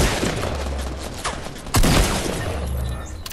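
Shotgun blasts in the Fortnite battle royale game, a few sharp loud shots with one heavy burst near the middle, set against busy game noise.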